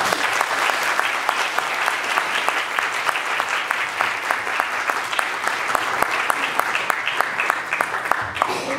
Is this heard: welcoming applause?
yes